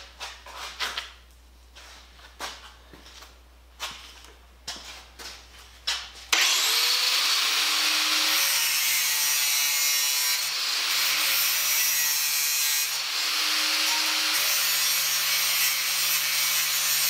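A steel wheelbarrow rim has its ends bevelled for welding, first with rhythmic back-and-forth filing strokes, then a loud continuous power-tool grind that runs steadily to the end.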